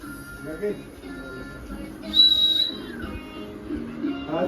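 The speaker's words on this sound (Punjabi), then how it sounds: "ਸੀਟੀ ਵਜਾ ਦੇ ਜਾ" A short, high, steady whistle rings out over low background voices and murmur.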